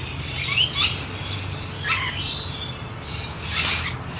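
Lorikeets call in a bird sanctuary, a few sharp chirps rising over a steady insect-like hiss and faint low background hum, fairly distant and with no talking.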